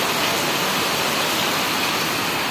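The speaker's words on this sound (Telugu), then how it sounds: "చాలా పెద్దగా వస్తుంది వర్షం" Heavy rain pouring down, including on an auto-rickshaw, a dense continuous hiss at close range with no voices.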